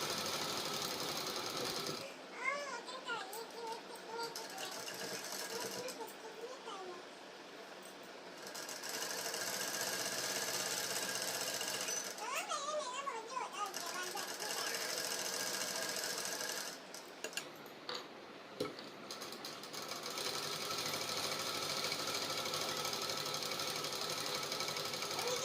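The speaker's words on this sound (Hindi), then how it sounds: "इसी तरह से मैं इसमें डबल स्टिच लगा लूँगी" A sewing machine runs a double stitch along the sleeves of a baby suit, buzzing in several long continuous bursts separated by short pauses, close and steady.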